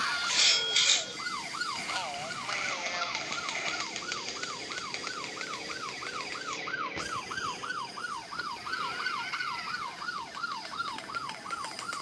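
A video-game police car siren wails in fast, regular up-and-down sweeps, continuous for the whole stretch over a low background hum.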